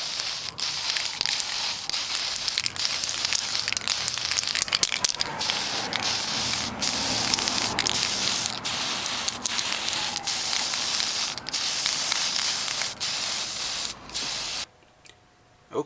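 Mr. Surfacer 1000 primer sprayed from a can onto a Gundam model kit outdoors, a loud continuous close spray hiss with small clicks for about fourteen seconds, then stopping abruptly into near quiet.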